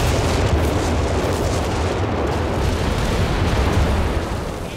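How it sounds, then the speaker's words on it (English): Zeroing artillery barrage in Company of Heroes 3, a dense, continuous rumble of overlapping explosions and booms that stays loud throughout and eases slightly at the end, with no talk over it. "zeroing artillery"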